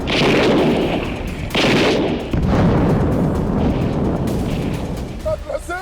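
A Hezbollah rocket attack on Israeli border towers and a command center, heard as loud, dense blasts and booming bursts that fill the clip, with sharper surges near the start and middle.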